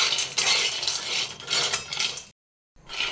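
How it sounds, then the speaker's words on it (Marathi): Peanuts dry-roast in a pan over a medium flame and are stirred constantly, giving a close rattling, scraping clatter in uneven bursts. There is a short silent gap before the stirring resumes. Nobody speaks. "शेंगदाणे असे सतत एकसारखे हलवत राहून मध्यम गॅसवर खमंग भाजून घ्यायचे आहेत"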